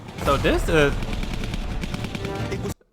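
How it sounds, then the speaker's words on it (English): Explosions and gunfire from archival documentary footage of the Japanese bombing raid on Darwin, Australia, a loud sustained roar of blasts and firing that runs under a narrator's voice before cutting off abruptly. "The fight raged in a constant roar of explosions and the screams of those hit."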